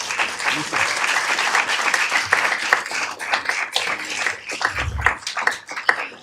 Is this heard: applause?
yes